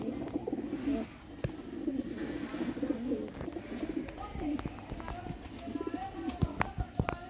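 Pairs of breeder pigeons coo in soft, repeated low rounds throughout, with scattered chirps and faint background sounds, at close range.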